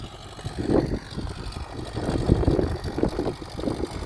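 A tractor engine drones during inter-row cultivation of a melon field, a rough low rumble with fluctuating loudness and wind buffeting the microphone, fairly close and heard alone.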